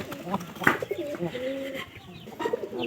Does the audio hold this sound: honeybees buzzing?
no